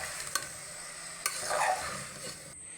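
Vegetables for aviyal sauté in hot oil, giving a soft, steady sizzle broken by a few sharp clicks and scrapes from stirring in the pan, fairly faint and close with no talking.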